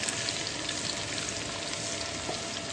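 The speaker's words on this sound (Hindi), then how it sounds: "लहसुन को हल्का सा फ्राई किया" Coarsely chopped garlic fries lightly in a pan with a dense, steady sizzle and scattered pops, close and continuous throughout, with no talking.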